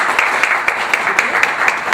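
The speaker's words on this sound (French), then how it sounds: "Je vous invite à l'applaudir." An audience in a hall applauds a hockey-ball player, steady dense clapping from many hands that carries loudly through the whole moment.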